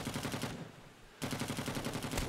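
Rapid automatic gunfire in the video game Rising Storm 2: Vietnam during a fight in Hue City: a dense, continuous rattle of shots that cuts off briefly near the middle, then resumes just as loud, with no talking.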